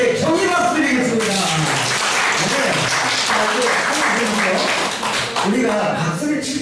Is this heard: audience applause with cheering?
yes